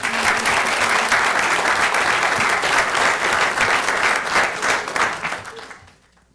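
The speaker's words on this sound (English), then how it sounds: "Let's give a round of applause" Sustained applause from the audience at a city council meeting and public hearing in North Augusta, steady and full for about five seconds before fading out.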